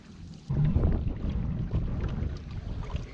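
A fishing boat runs fast across marsh water, a steady loud engine-and-hull rumble with wind buffeting the microphone, starting abruptly and holding close throughout.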